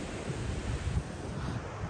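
Morning at the seashore with waves washing in and cool wind buffeting the microphone, a steady loud rumbling roar with no speech.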